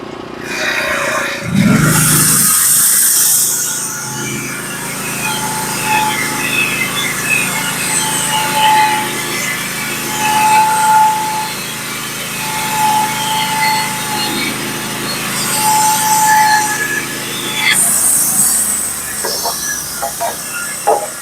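A Norwood HD36v2 sawmill cutting black locust: a steady engine drone with the whine of the blade through the wood running for most of the stretch, loud and close, with brief louder bursts near the start and end.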